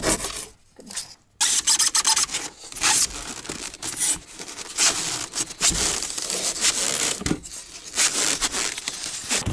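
Waterproofing membrane tongue being trimmed on a foundation, a close run of rough cutting, scraping and tearing strokes with a few brief pauses, loud and alone.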